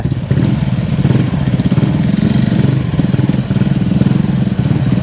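Motorcycle engine revving steadily and loudly up close while riding through deep floodwater on the NH 66 highway near Payyoli, with a continuous mid-pitched throb throughout.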